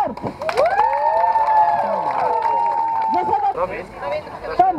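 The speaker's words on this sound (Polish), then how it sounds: "Gdy wam się mega podoba, to klaszczecie i krzyczycie" Street show audience in Darłówko cheering and shouting together, a loud, sustained burst of crowd voices with some clapping mixed in, children's cries rising above the noise.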